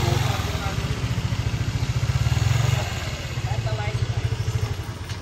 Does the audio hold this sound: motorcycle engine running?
yes